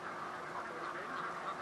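Farmed ducks quacking in a pen at a British Columbia duck-growing operation, a faint, steady wash of overlapping calls with no single distinct quack standing out.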